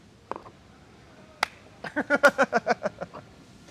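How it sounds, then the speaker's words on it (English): A short burst of about ten sharp, evenly spaced claps from a small group at the close of a podcast recording, preceded by a couple of isolated taps in an otherwise quiet room. "Let's give Rowdy a clap."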